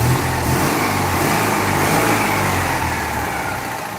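A Citroen 2CV on a dyno, its small engine droning loud and steady in one sustained run that eases off slightly toward the end.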